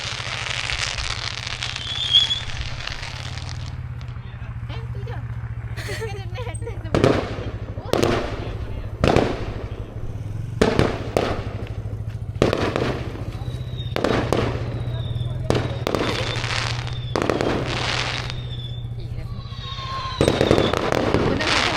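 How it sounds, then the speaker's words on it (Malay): Fireworks burst at a Hari Raya Aidilfitri celebration at night, with about a dozen sharp bangs and crackles at uneven intervals, some close together, over a steady background hum while people talk nearby. "Terlalu syok tengok bunga api."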